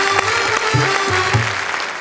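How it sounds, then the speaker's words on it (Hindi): Enthusiastic audience applause welcoming poets at a mushaira stage event, a loud, dense wash of clapping with a few sharper thumps standing out. "हम जोरदार तालियों से एक बार इनका स्वागत करें"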